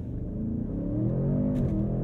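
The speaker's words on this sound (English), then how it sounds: "I'll then hold my foot hard on the brake, pin the throttle, build up some revs, and get us off the line quickly." A 2022 Audi S8 L launches hard from a standstill, its engine roaring and building in a loud, rising sweep heard from inside the cabin.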